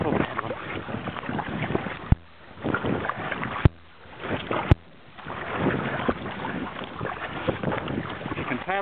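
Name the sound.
kayak (K1) paddling on water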